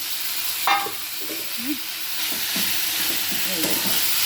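Tilapia frying in a pan as a spice paste of onion, ginger, tomato and raw turmeric goes in, giving a loud sizzle, a few clinks and scraping stirs over constant hissing oil.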